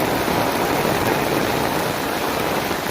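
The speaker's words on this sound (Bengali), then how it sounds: "কেমন বৃষ্টি হচ্ছে দেখো" Heavy rain pours down onto flooded, waterlogged streets, a loud, dense and steady roar of falling water throughout with no voices.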